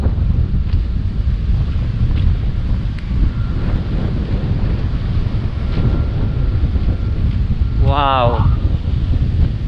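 Strong wind buffets the microphone in a steady, loud roar at the Bangui windmills in Pagudpud, Ilocos Norte, continuing throughout, with a short voiced exclamation near the end.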